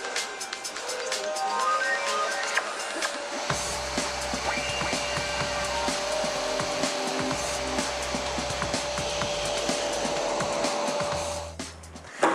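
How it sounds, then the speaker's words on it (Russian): Vacuum cleaner running steadily during a cleaning test on a rug rolled back and forth, a loud, sustained whining drone that holds for about twelve seconds and cuts off abruptly at the end. "наш пылесос отлично справился со своей работой, в отличие от некоторых пылесосов той же ценовой категории"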